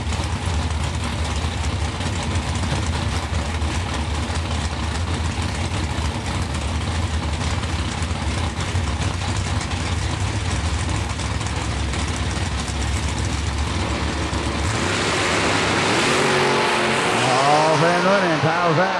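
Drag racing door cars in the final round of a Super Buck Blast main event rumble loudly and continuously at close range, the engine noise swelling into a rising rev near the end.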